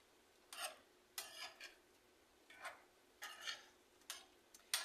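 A spoon stirs shrimp pasta salad in a bowl, making a short series of soft, scraping clinks in irregular bursts, quiet and close.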